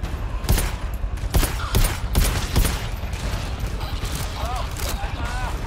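Gunfire in the video game GTFO, several sharp shots in quick succession early on, then fainter mechanical clatter, with a player's voice briefly audible.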